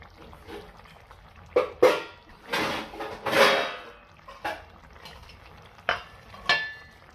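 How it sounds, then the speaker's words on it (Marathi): A lid set onto a pot of cooking millet khichdi, with a few close metallic clanks and scrapes in separate bursts over a quiet kitchen background, no talking. "आता याच्यावर आपण छानपैकी झाकण ठेवणार आहोत."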